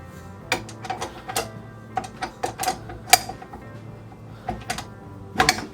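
A stand mixer with a paddle attachment works flour, salt and butter for a large batch of tart crust, a steady mechanical hum with rhythmic clacking and ticking knocks, close and fairly loud with no talk.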